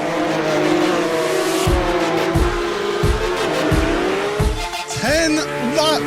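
Racing engines scream and rise in pitch together as Porsche cars launch in a video game sprint race at Circuit Gilles Villeneuve, with rhythmic gear-shift drops and a burst of tire noise, loud and continuous.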